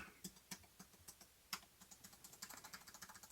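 Keys clack on a Keychron B11 Pro foldable keyboard: scattered single keystrokes at first, then a quicker burst of typing toward the end, close and fairly quiet with no voices.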